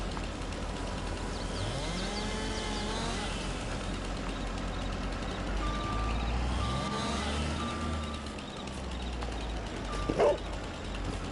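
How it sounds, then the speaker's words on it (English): A farm dog barks in Farming Simulator 22 on PS5, several distant yelps mixed with cattle lowing and a low vehicle rumble in the background of the game scene. "Oh, he's barking at me."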